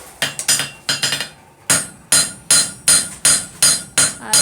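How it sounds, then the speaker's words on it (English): A metal bowl is hammered over an anvil: a fast flurry of ringing strikes, a short pause, then a steady run of loud, evenly spaced blows close by. "Going back over the anvil, I'm going to finish this out."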